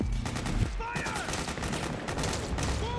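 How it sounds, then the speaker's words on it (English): Heavy gunfire from soldiers in Metal Gear Solid 4: Guns of the Patriots, a dense continuous barrage of rapid shots with some whistling sounds, under shouted voices of the soldiers. "Suppressing fire! Go! Go! Go! Charge! Suppressing fire!"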